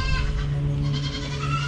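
Goats bleating on a hot farm, a steady harmonic bleat sustained through the whole short stretch, loud and close, with farm ambience beneath.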